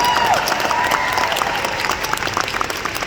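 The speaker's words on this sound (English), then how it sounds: "we can give a round of applause for that." Steady applause from an audience fills the whole stretch, dense clapping at an even level with no voices on top.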